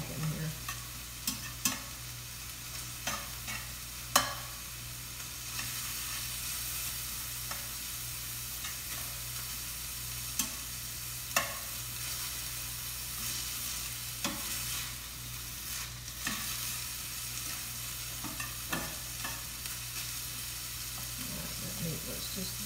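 Ground beef browning in a pan with onions, a continuous close sizzle broken by irregular scraping and tapping as a utensil stirs the meat.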